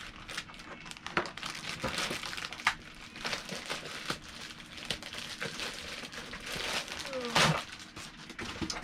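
A package holding fishing gear and collectibles is cut open: quiet crinkling plastic and tearing, with scattered sharp snips and rustles throughout, soft and close.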